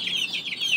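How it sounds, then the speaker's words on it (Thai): A chicken clucks in quick, bright repeated notes while being fed rice, close and clear with nothing else around it. "นี่คือไก่ค่ะ"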